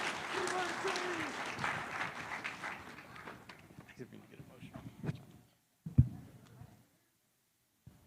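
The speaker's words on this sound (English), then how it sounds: "please give a round of applause for House 1" A church audience at a Sunday service applauds a team, with strong clapping at first that fades out over several seconds, a voice talking beneath it, and a few scattered sounds before silence.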